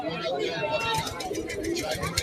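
Jagmukhi pigeons coo softly at the Beldanga bird market, low repeated throaty calls among a crowd, with someone talking over them throughout.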